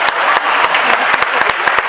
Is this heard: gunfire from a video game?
no